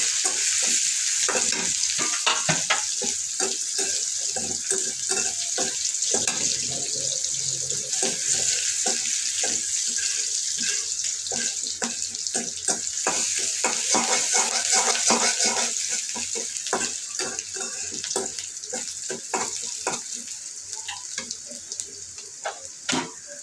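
Garlic and onion frying with leafy greens in a pan, a dense continuous sizzle with rapid crackles and stirring scrapes throughout, close and fairly loud, fading slightly toward the end.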